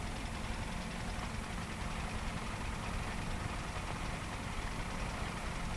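A McConnell flail hedger with its own oil tank and PTO-driven pump, powered by a tractor, running as a faint, steady engine drone that stays even throughout.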